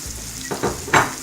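Fresh peas go into frying masala, with a soft sizzle followed by two or three quick scraping stirs in the pan, close and brief.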